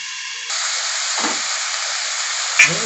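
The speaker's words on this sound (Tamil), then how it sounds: "மூடி போட்டு கொஞ்ச நேரம் அதை வதங்கிட்டோம்" Ivy gourd sautés in a pan, producing a soft, steady hiss that grows louder after a moment and is broken by a brief scrape and a clink near the end, with no talking.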